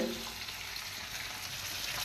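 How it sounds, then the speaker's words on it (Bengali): Onions frying in oil in a pan, with a salt and sugar pinch added while cooking a cabbage dish; a steady, close, even sizzle runs throughout with no talking. "পেঁয়াজ ভাজা হচ্ছে"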